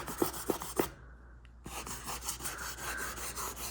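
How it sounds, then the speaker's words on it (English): Fine high-grit sandpaper lightly sanding dyed red car leather on an Infiniti Q50 interior: quiet, close rhythmic scratchy strokes, a short pause, then softer continuous rubbing. "I'll just take a high grit sandpaper."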